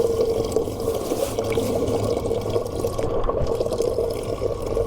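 Water poured or running steadily into soil or a container while chayote that has sprouted is planted, a continuous close trickling wash lasting throughout.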